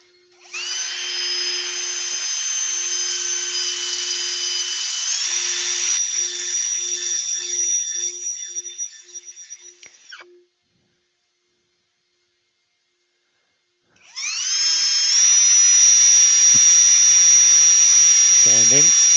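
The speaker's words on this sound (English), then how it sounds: "I'm just going to see what this looks like with a little bit of sanding." A power sander whines at a high pitch in two long runs separated by a silent pause, with the motor pitch wavering slightly as it works.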